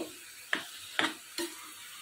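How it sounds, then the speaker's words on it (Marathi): Jaggery being stirred and sautéed in a pan, three short scraping clicks of the spoon against the pan spaced about half a second apart over a quiet, faint background sizzle. "हे बघा आपण हे थोडंसं परतून घेऊ"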